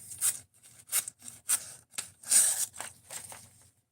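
Knife blade slicing through paper in a sharpness test, six or seven short dry rasping cuts in a steady rhythm, close and fairly quiet with no talking.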